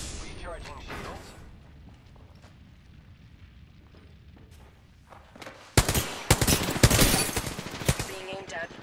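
Gunfire in the battle royale game Apex Legends: quiet ambience with scattered faint shots gives way to loud, sustained bursts of automatic fire and impacts, with in-game voice lines heard beneath.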